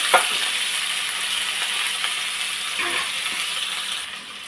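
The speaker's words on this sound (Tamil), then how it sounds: "மாங்காய் சேர்த்துட்டு வாசனைக்கு கொஞ்சமாக கருவேப்பிலை கருவேப்பிலையும் சேர்த்துட்டு நல்லா மிக்ஸ் பண்ணிக்கிறோங்க இந்த மாங்காய் நல்லா வதங்கட்டும்" Raw mango pieces fry with urad dal and curry leaves in hot oil for a sweet mango pachadi, giving a steady close sizzle with scattered scraping stir strokes throughout, easing off at the very end.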